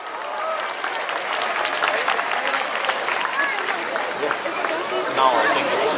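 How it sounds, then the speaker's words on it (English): Crowd at a Festival of Lights cultural performance applauding a troupe of dancers, loud continuous clapping mixed with cheering and murmuring voices from a large audience. "Let's give them a big round of applause."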